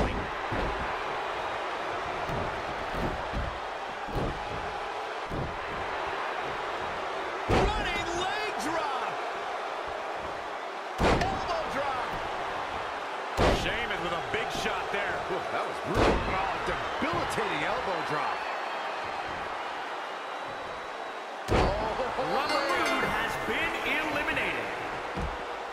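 Body slams and impacts in the WWE 2K20 wrestling game, including a double underhook move: repeated sharp slams scattered across the clip, landing under steady commentary voices and crowd noise.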